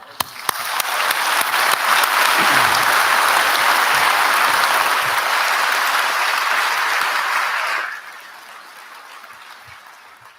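A large graduation-ceremony audience applauding after a list of degree candidates' names: a loud, steady roar of clapping that holds for several seconds, then drops off sharply into a quieter, hushed room.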